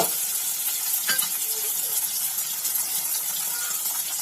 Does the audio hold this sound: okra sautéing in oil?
yes